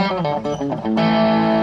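Electric guitar played through an Analog Alien distortion pedal, a short run of quick picked notes with mild, not over-the-top grit, ending on a sustained, ringing chord, loud and close with no talking.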